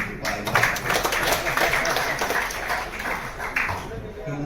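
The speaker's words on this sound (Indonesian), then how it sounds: "tepuk tangan untuk Pak" Audience at an alumni association gathering applauding a speaker, a continuous mass of hand claps of moderate loudness, with a voice faintly audible underneath.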